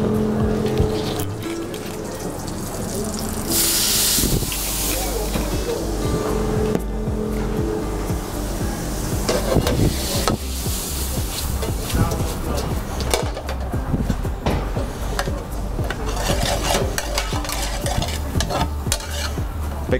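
Pasta sauce being deglazed with wine in a hot pan for pacchero alla Farouk sizzles and hisses loudly, with continuous scraping and stirring close by.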